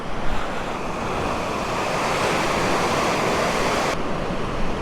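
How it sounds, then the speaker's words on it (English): Continuous rushing of water flowing through a culvert beneath a road, a broad steady roar on a windy spring day, with wind buffeting the microphone and no talking. "Water goes under the road."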